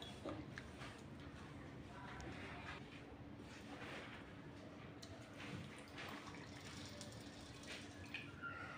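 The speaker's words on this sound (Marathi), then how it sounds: "गहू स्वच्छ धुवून घ्यायचे आपल्याला।" Wheat grains being washed in water, a steady close wet swishing and trickling that runs continuously with no talk over it.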